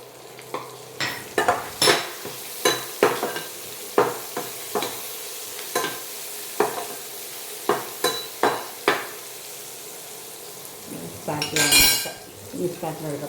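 Chopped shallots, about eight small onions, stirred in a frying pan, with a steady sizzle under a string of sharp clinks and scrapes from a utensil against the pan, and a louder burst of frying near the end.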